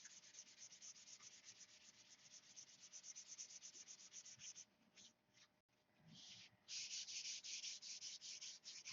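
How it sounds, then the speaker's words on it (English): Rhythmic back-and-forth sanding strokes on a control line P-51B model plane, a quiet, close scratchy rasp that pauses briefly and then resumes more strongly. "Put it on, sand it off."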